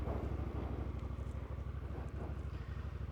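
A Honda NT1100 DCT motorcycle engine, started in neutral, runs with a steady, throbbing low rumble and rapid, even pulses from the exhaust, close and loud, with no voices.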